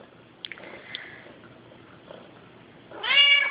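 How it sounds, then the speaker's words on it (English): A house cat lets out one clear, fairly loud meow near the end, preceded by faint ticks and soft rustling in an otherwise quiet room. "Hey, cat."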